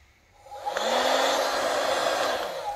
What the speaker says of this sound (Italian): un piccolo aspirapolvere per aspirare la polvere dalla mia tastiera e anche dalla scrivania